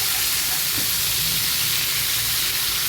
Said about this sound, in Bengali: ডাটা বেগুন আলুটাকে আমি একটু নুন আর হলুদ দিয়ে ভালো করে ভেজে নেব